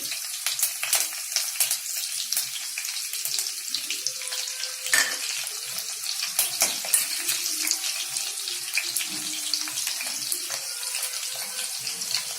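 Green chillies and curry leaves frying in hot oil for a prawn fry, giving a steady broadband crackle with scattered sharp pops throughout, close and moderately loud, with no talking.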